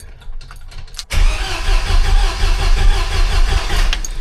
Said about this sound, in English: This way we can turn the motor over without it firing to build some oil pressure and build some fuel pressure too.